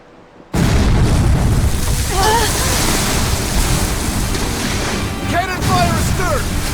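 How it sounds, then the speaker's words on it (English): Loud, continuous roar of sea and wind aboard a ship in the Tales of Berseria video game, with booming cannon fire at sea blending into the surf and a few faint cries rising over the din. "Cannon fire astern! Pirates!"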